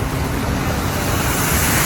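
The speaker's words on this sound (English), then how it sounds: "Thunderous waves crashed along a barrier in Wildwood, causing the street to flood." Storm surge waves from Hurricane Erin crash against a barrier at the beach in Wildwood, New Jersey, a loud, steady roar of churning surf mixed with strong wind and no talk.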